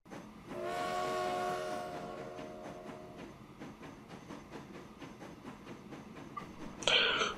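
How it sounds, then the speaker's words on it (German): A train in the video game Transport Fever sounds its whistle for about a second, then rolls on with a steady rhythmic clatter of wheels over rail joints, and a brighter burst comes near the end. "Der nächste Zug, der wartet, der wird auch ins Depot gehen."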